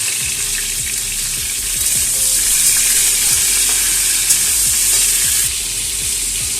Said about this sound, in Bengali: ফুলকপিগুলো এইভাবেই ভাজা হবে, এর থেকে বেশি ডিপ ফ্রাই হবে না